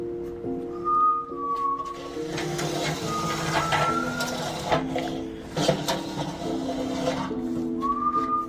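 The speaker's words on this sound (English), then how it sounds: "Why is he just whispering, whistling?" A man whistles in a cave, giving a few sliding, high whistle phrases over sustained droning tones and a busy, reverberant background with no clear speech.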